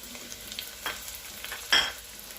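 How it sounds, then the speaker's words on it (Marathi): Chopped onion and tomato sautéed together in a pan, a soft hiss broken by a few scraping stirs, the last one louder and brighter, quiet and close with no talk. "आता कांदा आणि टोमॅटो व्यवस्थित परतून घेऊया"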